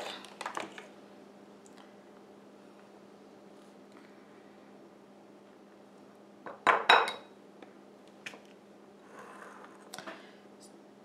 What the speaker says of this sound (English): So I'm just getting all of this out and dumping it into the bowl.